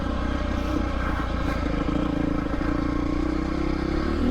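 A motorcycle, taller than the rider's KLX, rumbles steadily underway with a continuous loud engine drone and road noise throughout, no voices heard.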